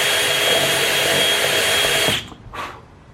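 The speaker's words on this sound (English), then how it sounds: "You might as well do it with a countersink." A power drill with a countersink bit runs at steady high speed against a steel building frame for about two seconds, then cuts off abruptly, followed by a short faint whir.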